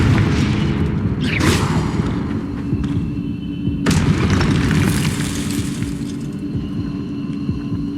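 Confringo spell blasts in Hogwarts Legacy, fired in combat as loud booming explosions. Two sharp bursts land near 1.3 and 3.9 seconds over a dense rumbling battle din, with no talk.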